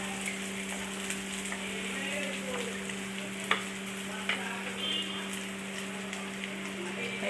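Finely chopped red shallots with green chillies sizzle softly in a pan for a Kerala-style fish curry, a steady crackle broken by a couple of stirring taps, over a constant low electrical hum.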